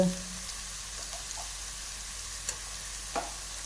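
Masala with turmeric and chili frying in a pan gives a soft continuous sizzle close by, broken by a couple of faint stirring taps, with no speech.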